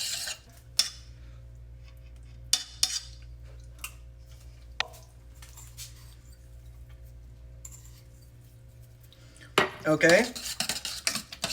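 Spoon scraping and clinking against a pan while Israeli couscous is mixed with squash and shrimp, sparse taps and scrapes, then a brief busier stirring burst near the end; a short spoken word occurs.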